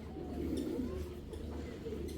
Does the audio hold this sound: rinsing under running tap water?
no